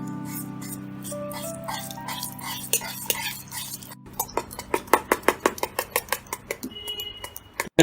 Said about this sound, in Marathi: या बॅटरमधला लास्ट इन्ग्रेडियंट म्हणजे हाफ कप मिल्क आणि याला व्यवस्थित मिक्स करायचं